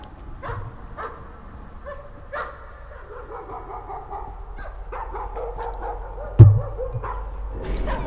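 A dog in the horror game Layers of Fear barks and yips in repeated bursts, with whimpering in between and a sharp thud near the end, over a dark, quiet ambience.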